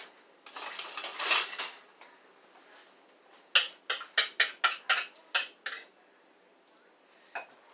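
Dishes and a spoon handled in a home kitchen: a soft rustle of crockery, then a quick run of about eight sharp metallic clinks, and one last faint tap after a pause, close and quiet.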